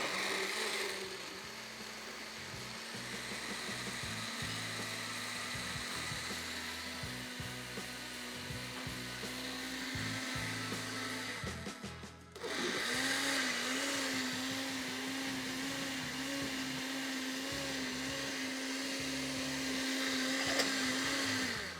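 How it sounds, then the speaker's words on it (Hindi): A blender runs continuously, blending a smoothie with a loud, steady motor whine, briefly stopping and restarting midway, then droning on at a slightly higher pitch, with no talk. "इसके बाद सिंपल इसको ब्लेंड कर लेते हैं"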